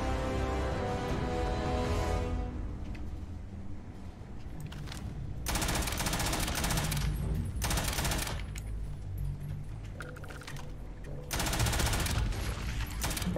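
Rapid weapon fire in the Starfield video game, with bursts of automatic shots coming in loud waves over a dense continuous game soundscape, with no talking.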